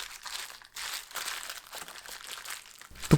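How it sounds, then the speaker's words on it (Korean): Plastic wrap crinkling as it is pressed over a container of pickled garlic scapes in gochujang, close and crisp in short irregular bursts, with a soft thump at the end. "공기 통하지 않도록 비닐이나 랩으로 덮어줍니다."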